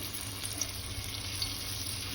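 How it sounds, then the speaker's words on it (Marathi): Pieces of pomfret fish frying on a hot pan, giving a soft, continuous sizzle with faint crackles, fairly quiet and alone. "नंतर आपण तुकड्या फ्राय बनवायला घेऊया"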